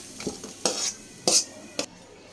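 Cooked papaya bhaji (vegetable fry) scraped from a pan into a bowl: a few sharp metal spoon clinks and scrapes spaced out over a couple of seconds, close and fairly loud, with no talk.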